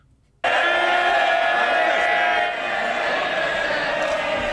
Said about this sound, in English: Are they cheering over that insult?